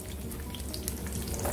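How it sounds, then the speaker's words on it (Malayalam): Garlic cloves dropped into hot sesame oil for a prawn pickle, giving a steady, close, even sizzle and crackle throughout a brief moment with no talking. "ചൂടായി നമുക്ക് ഇതിലേക്ക് വെളുത്തുള്ളി ഇടാം."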